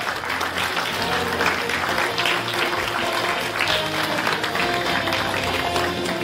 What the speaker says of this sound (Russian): И ваша задача подарить им аплодисментов